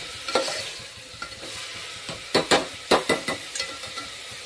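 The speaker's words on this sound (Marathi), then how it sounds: "त्याच्यावर आता छानपैकी टोमॅटो पण भाजले पाहिजे व्यवस्थित" Tomatoes and onion roasting in a pan for a prawn rice dish, with a steady sizzle broken by several sharp scraping stirs of a utensil against the pan, close and fairly loud.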